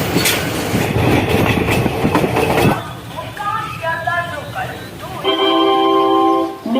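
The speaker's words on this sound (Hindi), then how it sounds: "हमारा ट्रेन को डीकपल कर दिया गया है। जो गौड़ एक्सप्रेस है उस ट्रेन के साथ लिंक कर दिया जाएगा।" Train cars are decoupled and linked to the Gour Express at a station platform: a loud clattering, rumbling rail stretch gives way to squealing metallic tones and clanks, with a voice speaking nearby.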